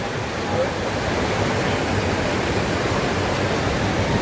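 Broad steady roar of rushing water at Athirapally waterfall in Kerala, heard near and loud as a constant wash of noise without breaks.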